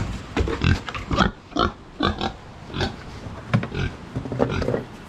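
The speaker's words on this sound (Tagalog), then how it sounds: "ngayon nagpapakain na lang ako ng baboy" A pig grunts and snorts repeatedly in short, uneven bursts close by, with chomping, slurping noises between them as it feeds.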